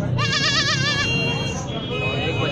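A Makki Cheena goat at a goat market gives one loud, wavering bleat lasting about a second, close by, over a noisy background of people talking and market bustle.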